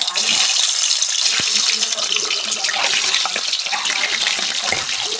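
Eggs fry in hot oil in a pan with a dense, crackling sizzle that hisses continuously and close up, while a voice speaks intermittently underneath.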